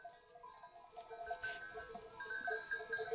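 Sheep in a Turkish mountain village bleating faintly in the distance, with several overlapping calls repeating across a few seconds among quiet outdoor ambience.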